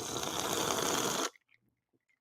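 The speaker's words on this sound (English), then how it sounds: "I'm going to slurp every beverage that I drink tonight." Someone slurps water in one loud, continuous, close-up pull lasting just over a second, followed by near silence.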